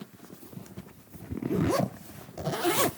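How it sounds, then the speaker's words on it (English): Zipper on a PGYTECH OneGo 25L camera backpack pulled along its track in two rasping strokes, close and clear, the second stroke longer and louder than the first. "Zippers feel great."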